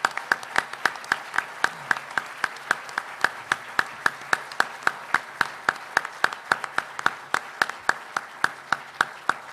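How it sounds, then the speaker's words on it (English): Applause at a leadership panel discussion, but heard as one person's slow, steady, evenly spaced claps, close and distinct, repeating through the whole stretch. "Stand up so we can give you a round of applause."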